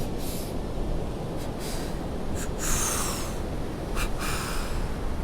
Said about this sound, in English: The Paramahansa Yogananda breath with 2 inhales, 2 exhales is very powerful.